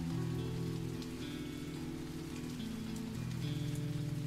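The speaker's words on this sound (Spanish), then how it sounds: "sigue lloviendo que te cagas" Rain pours steadily in the video game Ashwalkers, a dense continuous patter with a low background drone underneath and no voices.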